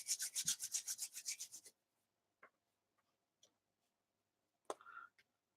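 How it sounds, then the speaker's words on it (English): Fingers rubbing at a small ladybird craft piece, with a steady run of brisk rhythmic scrubbing strokes at the start, then quiet with a few faint isolated brushes and taps, close and soft. "I'm trying to rub out these little fingerprints"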